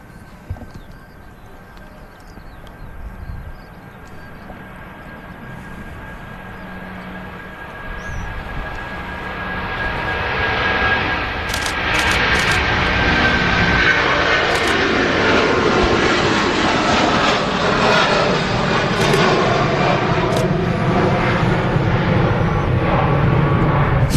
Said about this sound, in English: what a view there of the Turkish Airlines A330. And a great sound as well